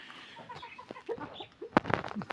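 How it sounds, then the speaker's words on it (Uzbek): Large adult hens cluck and murmur close by in short bursts, ending with a couple of louder, sharper squawks. "Mana yana katta tovuqlarimiz."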